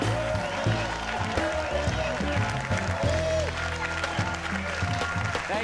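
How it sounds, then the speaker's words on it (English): Audience applause welcoming the host on stage at the Rough Draft live show in Silver Lake, a steady full-room wash of clapping mixed with cheering and scattered voices throughout. "please give an enthusiastic round of applause for Reza Aslan"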